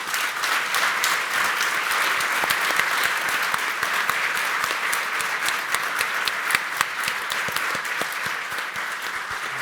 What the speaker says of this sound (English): give a very big round of applause to our panel